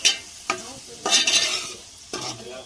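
Garam masala and chicken masala powders frying in a pan for mushroom curry, a spoon scraping through them in several short strokes over a light sizzle, close and clear with no voices.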